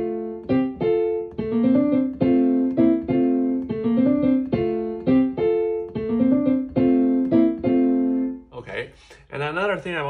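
Solo piano plays a passage from Ellmenreich's Musikalische Genrebilder, Op. 14, a sustained inner-voice line moving beneath repeated chords and melody, steady and close, ending with a brighter flourish of quick notes.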